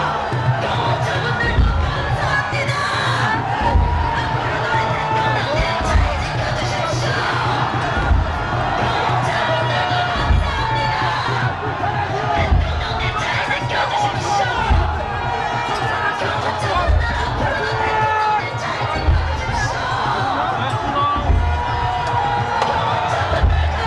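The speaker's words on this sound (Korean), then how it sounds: "대통령 윤석열을 외치는 구호가 서울구치소 앞을 가득 메웠지만" A large crowd outside the Seoul Detention Center chants slogans in loud, rhythmic unison, with shouts and cheers rising and falling continuously over a steady drum-like pulse.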